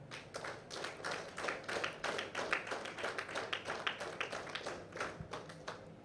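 An audience in a hotel hall claps steadily throughout, a moderately distant, continuous patter of many hands with no voices over it.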